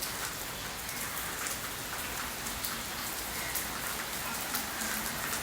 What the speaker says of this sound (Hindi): सुबह सुबह की बारिश।